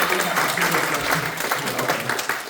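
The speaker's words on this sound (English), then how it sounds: "Now let's do proper applause, actually." A graduation audience claps steadily, a dense wash of many hands at moderate loudness with faint voices underneath, continuous for the whole stretch.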